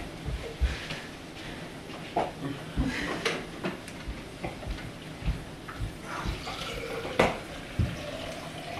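Tap water runs into a bath with a continuous rushing flow, broken by scattered knocks and splashes nearby, while faint voices are heard now and then.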